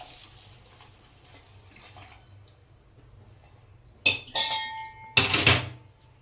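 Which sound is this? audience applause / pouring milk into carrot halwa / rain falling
pouring milk into carrot halwa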